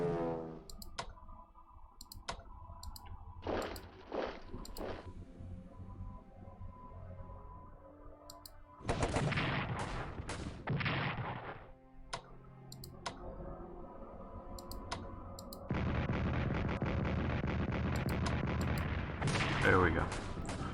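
Artillery fire in the WWI strategy game Strategic Command WWI: scattered game clicks at first, then loud bursts of booming bombardment around the middle and a sustained heavy barrage filling the final stretch, with a voice talking at times.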